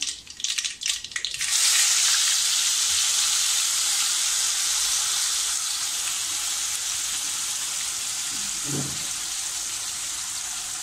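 Ground wet masala paste hits hot oil over a low flame for green peas usal, bursting into a loud, steady sizzle after a brief clatter, then hissing on evenly without talk.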